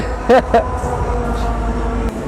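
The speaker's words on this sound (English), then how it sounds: "we might have to pause because of the train." A train rolls past outdoors in a city, a steady low rumble and clatter lasting throughout, with people talking over it.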